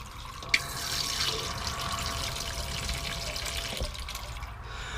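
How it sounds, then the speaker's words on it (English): Water running through a Thetford motorhome toilet pump as it is flushed after unclogging, a steady rushing flow that starts with a small click and continues evenly, fairly quiet with no talk. "And this is the last flushing bit I've got to do."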